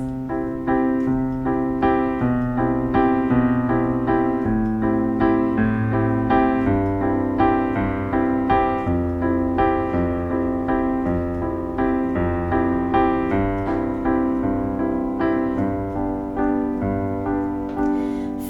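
Solo piano plays a gentle, steady chordal introduction to a song with a regular rhythm, clear and close, with no voices.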